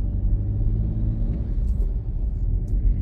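Heavy road traffic crawls along on a rainy Tuesday morning, a continuous loud low rumble of car engines and tires close by, with a couple of faint higher splashes or squeaks near the end.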